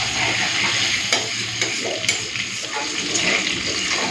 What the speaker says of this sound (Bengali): আলুটাকে লাল করে ভেজে নিই, তারপরে মশলা বাটাটা দেব।